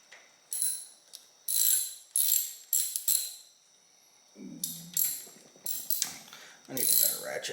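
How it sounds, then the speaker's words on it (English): A hand ratchet clicks on the rocker nuts while the hydraulic lifters of a 1968 GTO's Pontiac 400 engine are adjusted. Bursts of rapid, close clicking come in repeated short strokes with pauses between, plus faint metallic knocks. "I need a better ratchet."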